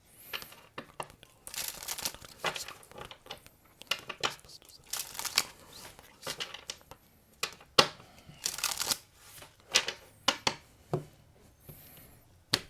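Oracle cards shuffled and drawn from a deck during a tarot-style reading, with rapid crisp riffling and flicking bursts, scattered card snaps and brief rustles, fairly close and moderately quiet.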